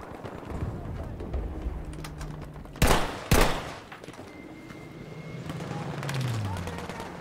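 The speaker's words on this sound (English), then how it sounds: "Whoa, someone's shooting." Gunfire in Battlefield V, with a couple of loud close shots standing out over a busy background of game noise and scattered distant pops.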